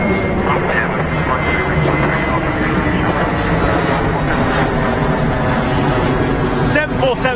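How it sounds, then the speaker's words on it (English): A Boeing 747 jet at Heathrow Airport produces a loud, continuous roar that fills the whole stretch, with people talking faintly beneath it. "747 should be any moment now, for God's sake."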